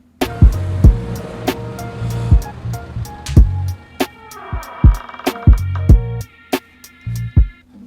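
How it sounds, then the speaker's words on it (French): A car sound effect plays inside a BandLab music project, with pulses and swells of engine-like rumble and whooshes mixed among sharp rhythmic hits, loud and close. "Reste le bruit de la voiture."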